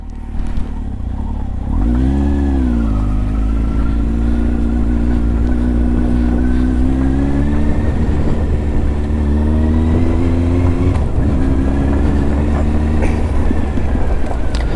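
A Kawasaki Z1000 motorcycle engine on a ride, loud and close, rising in pitch after a quiet start and then holding a steady, throbbing note through the rest of the run with small shifts in revs.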